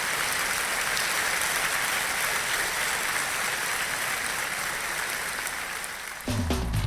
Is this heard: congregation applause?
yes